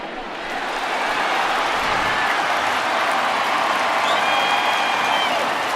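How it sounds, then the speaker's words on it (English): A home crowd roars steadily at a baseball game between the Rockies and the Diamondbacks in the video game MLB The Show 20, with a continuous cheering swell and a few high whistles over several seconds. "No better way to get the home crowd into it right out of the gates."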